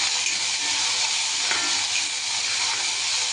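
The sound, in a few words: sautéing tomatoes and onions with rock salt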